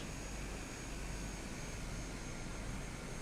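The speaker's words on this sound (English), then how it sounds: "You can slow this aircraft down very quickly." A steady, faint broadband whoosh of an aircraft slowing with flaps extended in a flight simulator game, continuous and even with no clear changes.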